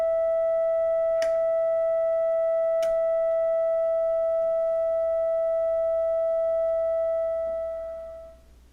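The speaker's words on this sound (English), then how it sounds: "When the control is fully counterclockwise, at the 0 position, the oscillator produces a sine wave, regardless of the position of the waveform selector switch." A Buchla Music Easel oscillator holds a single steady sine tone, clean and continuous for several seconds, with two faint clicks early on before it fades out at the end.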